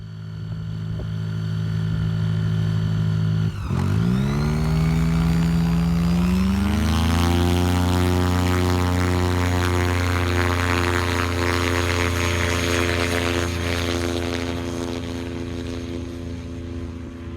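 A light single-engine aircraft drones loudly and steadily in flight, its propeller hum sliding upward in pitch early on as power increases, then holding a strong, even tone with no talk.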